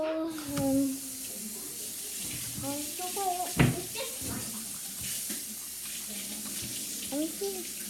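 Water runs steadily from a tap into a sink as a dirty container is washed, a soft constant splashing under children's and adults' voices talking nearby.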